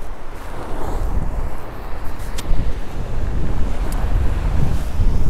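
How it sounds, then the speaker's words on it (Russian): Sea waves surging and breaking on a winter beach in central Sochi, a continuous loud wash of surf heavily buffeted by wind noise on the microphone, with one stronger impact of water partway through. "Там прям волна так стукнула."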